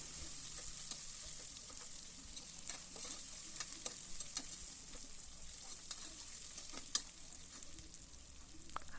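Three large lengthwise-sliced onions fry in a pan with a constant quiet sizzle, while a spoon stirs them, scraping and tapping the metal in an irregular rhythm and never stopping.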